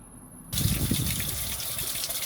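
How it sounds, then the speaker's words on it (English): Water gushing while flushing the cooling system of an Isuzu NPR truck fitted with a new radiator: a loud, steady rushing flow begins abruptly and continues without pause. "Now I'm going to flush the cooling system for a little while."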